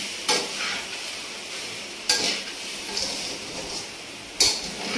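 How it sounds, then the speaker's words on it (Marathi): Halwa is stirred in a large kadhai, with a spoon scraping and clanking against the metal pan in three sharp strokes over a low, steady sizzle, close and fairly quiet with no talk. "हलवा यावा म्हणून मोठी कढई ठेवली बरं का भाऊ बहिणींनो"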